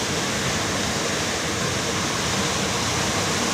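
Rushing water surging through a canal tunnel at Bagur-Navile, a dense, steady roar of broadband noise filling the space, loud and continuous with no pauses or voices.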